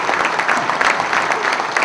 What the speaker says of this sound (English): One nice round of applause for that.